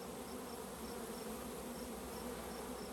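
Honeybees hum steadily inside a baited swarm trap in Michigan, a soft, even drone that carries on alone without a break.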